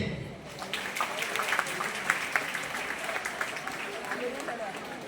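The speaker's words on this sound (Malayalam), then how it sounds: "അതിന് നിങ്ങൾ എല്ലാവരും ഒന്ന് കൈയടിച്ചേ." Students clap together in the Kannur Navaneetham auditorium at an SSLC full A+ meet, a dense burst of applause that rises and carries on for several seconds, with some voices mixed in.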